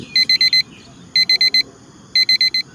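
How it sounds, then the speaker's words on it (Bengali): An alarm clock rings in three evenly spaced bursts, each made of four rapid, bright electronic beeps, loud and close with short quiet gaps between bursts. "ঘড়ি,"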